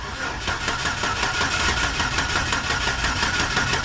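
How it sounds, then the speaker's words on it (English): A Chevrolet Silverado pickup engine cranks without firing, the starter churning in a fast, even rhythm throughout, loud and close with no talking. "I'm just gonna crank the engine over"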